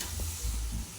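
Fish frying in a pan in a home kitchen, a steady low sizzle with soft stirring bumps across one second.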